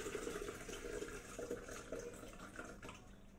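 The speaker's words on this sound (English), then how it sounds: "So I want to strain it for any particles." Liquid from a pineapple and orange peel smoothie being poured through a strainer, a soft continuous trickle and splash heard up close with no talking.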